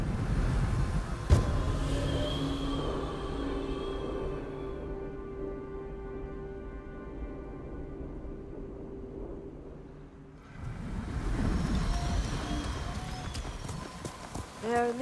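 Horse hooves clip-clop in a steady rhythm as a rider travels in Ghost of Tsushima, moderately close, with a sustained musical drone and spoken voices layered over the hoofbeats.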